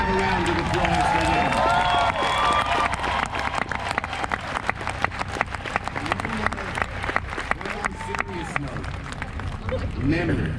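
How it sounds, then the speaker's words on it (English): Steady applause from a large outdoor commencement crowd at City College of New York, dense clapping with scattered cheers and crowd murmur lasting about ten seconds. "Let's have a round of applause for"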